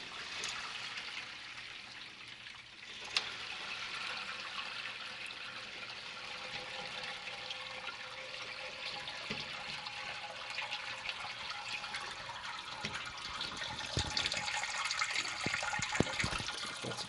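A raised brew pot of blonde ale wort drains at a brewery, giving a steady trickling, splashing stream of liquid that runs on continuously, with a few clanks over the final seconds.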